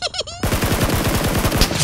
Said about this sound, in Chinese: 枪声来了，想必是有人在交火